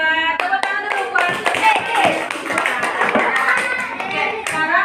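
A classroom of schoolchildren claps their hands together in loud, rhythmic bursts. Children's voices talk or chant along between and over the claps.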